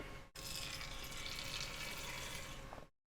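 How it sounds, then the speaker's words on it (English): Water stirred into nutmeg brown acrylic paint in a small plastic tub, a steady close swishing and sloshing that runs without a break for about three seconds, then stops. "I'm going to mix quite a bit of water in there with it."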